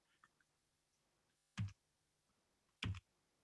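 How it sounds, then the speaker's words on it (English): A computer mouse clicks in a quiet room, two distinct clicks about a second apart after a few faint ticks, close but soft, with no voices. "And I'm clicking a little bit faster, so it ends up going through."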